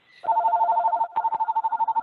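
During an online video-call meeting, a telephone rings with a steady electronic warble. It pauses briefly, then resumes in quick pulsing bursts, clear and moderately loud.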